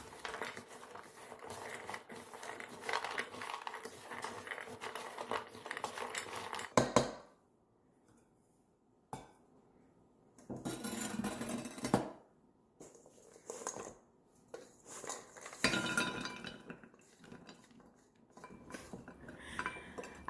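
A utensil stirs a blackberry crumble mixture in a bowl, giving close scraping and clinking in uneven bursts separated by short silent pauses.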